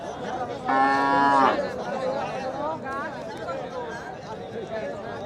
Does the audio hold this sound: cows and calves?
yes